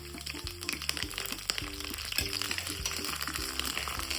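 Curry leaves frying in oil with browning ginger, garlic and green chilli for a spicy murrel fish dish, a faint sizzle beneath recurring louder clanks of stirring, with melodic background music throughout.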